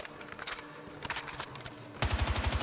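TR7 rifle firing in Battlefield 6, scattered shots at first and then a fast, loud automatic burst of close, punchy reports with no talking.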